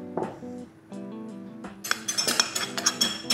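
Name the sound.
spoon scooping powdered cocoa out of a container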